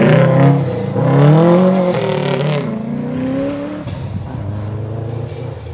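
A 2008 Subaru STI rally car on gravel tires in the limited four-wheel-drive class, driving a tarmac stage at the Oregon Trail Rally: a loud, close engine note rising and falling through gear changes, then fading as the car moves off.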